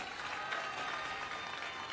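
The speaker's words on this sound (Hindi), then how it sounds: "एक बार ताली बजा दो अपने एमएलए के लिए सारे" An outdoor political rally crowd claps in a steady, dense wash of applause, somewhat distant and fairly faint, with no talking over it.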